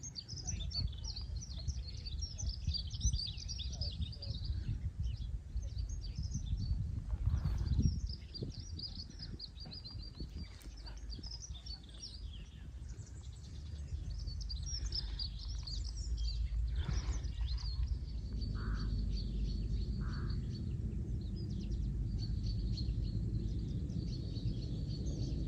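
Birds call and chirp across estuary marshes along the Saxon Shore Way on a misty morning, a scatter of high distant tweets over a soft outdoor hush, with a voice talking at times nearby.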